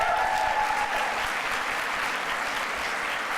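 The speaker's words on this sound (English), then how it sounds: "Give them a rousing round of applause." Sustained applause from a large audience at a graduate studies spring convocation awards ceremony, a dense, even roar of many hands clapping in a big hall with no talk over it.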